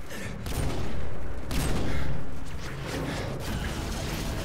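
Sniper rifle shots in a 360-spin challenge video game: a dense, loud stretch of repeated gunfire blasts and crashes, broken by a couple of sharper bangs, with no talk.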